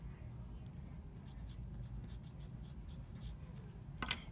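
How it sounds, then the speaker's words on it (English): A pen scratches faintly across a paper travel record card, soft intermittent strokes over low background hum, ending with a brief sharper tap. "So now on my travel record here, I'm going to write stay."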